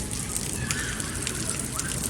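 Heavy rain falls across an apartment compound during a thunderstorm in Karachi, a dense continuous hiss of water that holds steady and fairly loud throughout.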